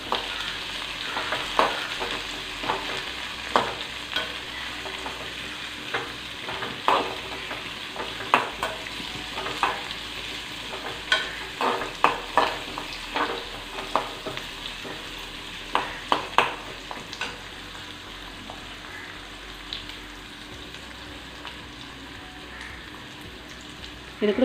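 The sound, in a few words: curry leaves frying and sizzling in oil for kuzhambu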